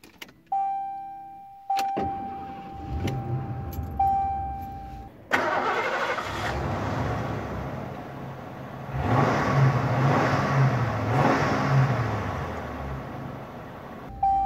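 A chime sounds, then a Lincoln Town Car's 5-litre V8 engine cranks and starts, idles with a low rumble, and revs up loudly a few times nearby.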